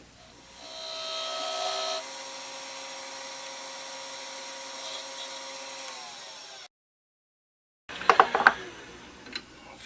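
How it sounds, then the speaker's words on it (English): A wood lathe spins a workpiece as a skew chisel makes light finishing cuts, giving a faint, steady whirring whine. It goes briefly silent, then returns with a few sharper scraping cuts. "Final touch with a skew, and just a little more detailed here"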